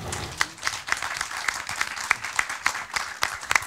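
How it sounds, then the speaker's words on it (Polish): A film club audience applauds an award for a screenplay with a steady patter of many hands clapping, with a few louder individual claps standing out on top. "Brawa."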